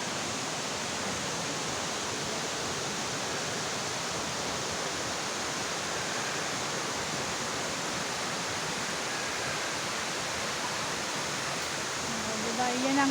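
Waterfall at Hinulugang Taktak falls, a steady broadband rushing roar of falling water that continues unbroken throughout, loud and close.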